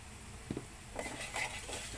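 A spoon scrapes and clinks against a pan while stirring a semolina idli mixture on a gas stove, a few soft, close metallic knocks under faint sizzling.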